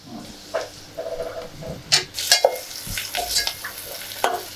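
Freshly pounded ginger paste hits a hot frying pan while cooking a dry fish gongura fry curry, crackling and sizzling steadily under repeated scraping stirs of a spoon.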